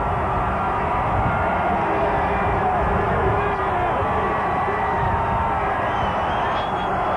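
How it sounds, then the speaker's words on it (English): A huge Times Square crowd on New Year's Eve, 1992 into 1993, sends up a dense, steady roar of cheering and babble that never lets up, loud and continuous throughout. "Listen to that crowd."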